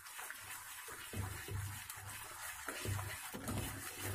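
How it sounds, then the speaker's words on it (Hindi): Water pours a little at a time into pumpkin-leaf roll batter while it is stirred, a soft continuous splashing and sloshing with a few heavier pulses, and no voices. "अब इसमें हम थोड़ा थोड़ा पानी डालते जाएंगे"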